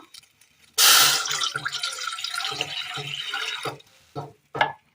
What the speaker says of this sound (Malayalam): ഇതിലേക്ക് ഒരല്പം വെള്ളം ഒഴിച്ചു കൊടുക്കാം